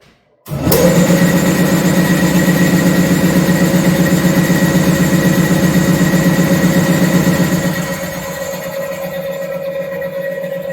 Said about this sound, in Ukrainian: Включаємо вакуум насос.